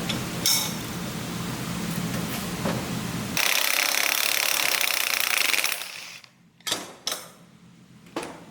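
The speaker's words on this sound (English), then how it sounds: "And then I'm going to take a 1/2 inch gear wrench. Just tighten it up. Slowly start working this out." A 1/2 inch gear wrench working loose a stubborn part on a power steering pump of a Jeep FSJ Cherokee Chief: loud grinding, ratcheting mechanical noise for several seconds, then a few sharp clanks as it breaks free.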